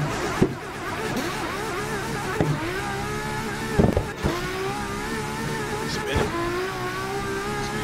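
Nissan GT-R R35 and R34 in a racing game, engines droning and revving with shifting pitch, wheels spinning, brief thumps punctuating the steady motor roar.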